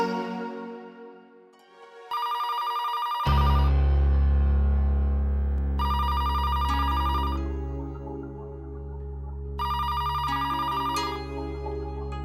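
A telephone rings in three loud, evenly spaced electronic bursts that sound close, over a swelling musical background with no talk.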